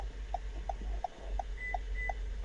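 A faint, regular electronic beep repeats about every third of a second over a low background hum, with a couple of brief higher tones, while programming a smart key for a 2022 Toyota RAV4 with an Autel IM608.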